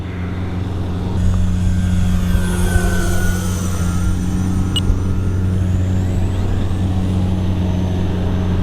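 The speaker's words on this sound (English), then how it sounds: "Throttling back up." An X-Fly F-15 RC jet with twin 40mm electric ducted fans throttles up, a loud steady whine and roar that rises after the first second and holds strong, with a faint pitch glide overhead.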